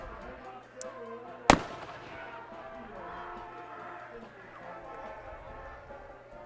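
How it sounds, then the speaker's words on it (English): Fireworks go off during halftime at a high school homecoming football game: a faint early pop, then one sharp, loud bang over a steady murmur of crowd and announcer talk. "We've had a halftime fireworks show for the last 10 years I've been here at least."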